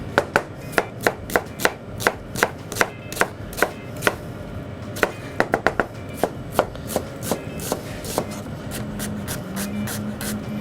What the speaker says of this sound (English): Just going to chop this onion.